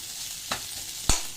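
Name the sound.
breaking up frozen gravy with a ladle in pan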